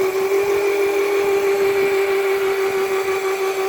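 A Nitrox Cobra V4-2 1000W electric mini ATV runs with a steady, close, high-pitched motor whine that holds an even tone throughout, with no talking.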